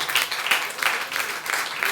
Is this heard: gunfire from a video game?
no